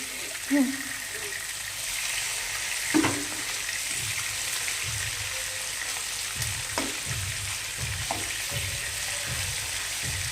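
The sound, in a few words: katla fish frying until red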